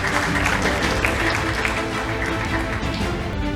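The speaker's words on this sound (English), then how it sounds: "a big round of applause needs to continue" Ladies and gentlemen at an SME excellence awards ceremony keep up a loud, dense round of applause, the clapping continuous and close throughout.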